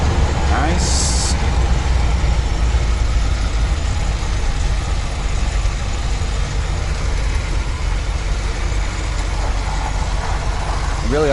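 A 1984 Dodge van's engine runs steadily while driving, a loud continuous low rumble with road noise and rattles throughout, close and constant.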